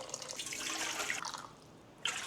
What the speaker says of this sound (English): first we need 1 1/4 cups of water